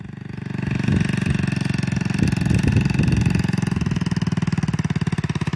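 A 250cc motorcycle with 12x48 gearing runs loud and close, its rapid, steady engine pulse swelling slightly as the throttle is worked and then settling back.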